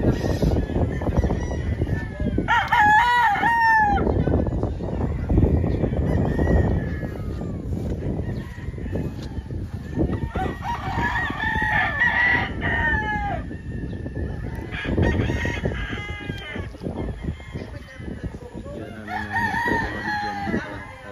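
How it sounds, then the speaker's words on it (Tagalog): Several gamefowl roosters crow repeatedly over a constant din of clucking chickens at a game farm, some near and some farther off, with no pauses in the flock noise. "Sobrang dami ng manok."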